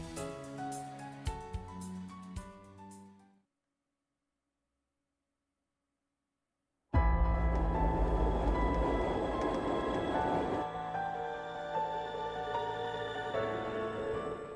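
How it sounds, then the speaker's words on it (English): Tram rolling through a city in the video game Trails of Cold Steel III, a steady rumbling rail-car noise that cuts in loudly after a few seconds of silence and carries on continuously, with music fading beforehand. "Oh, the tram came at the perfect time."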